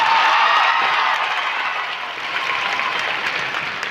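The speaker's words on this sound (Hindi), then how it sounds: "खाली कुर्सियों के हिस्से की भी तालियां बजा के बताइए कि आपका कितनी ऊर्जा है।" An audience applauds at a college's 25th silver jubilee celebration, steady, dense clapping that fills the whole stretch, loud and close, fading slightly midway before swelling again, with no voices standing out.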